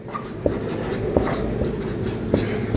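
Formula written by hand during a geometry lesson: quick soft scratching strokes with a few sharper taps, close and steady over a faint room hum.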